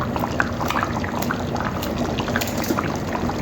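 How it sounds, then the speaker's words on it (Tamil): Simmering cauliflower kurma bubbles in a pot as ground coconut-cashew paste is poured in, giving soft, continuous bubbling and liquid pops at close range with no talk. "இப்போ நம்ம தேங்காவை முந்திரி அரைச்சி வச்சுருந்தோம்ல அதை ஊற்றிடுவோம்."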